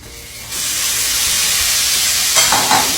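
Loud, steady sizzle of meat browning in a hot frying pan, starting abruptly and holding as a close, bright hiss with a slight stir near the end.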